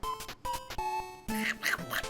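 A man imitates Donald Duck's quacking cartoon voice in a short run of nasal, buzzy squawks close to the mic, with brief gaps between bursts.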